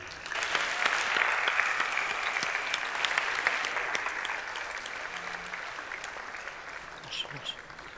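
Audience at a gala awards ceremony for a company-of-the-year competition gives sustained applause to winners on stage, a dense wash of clapping that holds steady, then slowly thins, with faint voices in the background.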